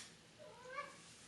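A cat lets out a single short, faint meow that rises and falls within about half a second, heard alone in a quiet room.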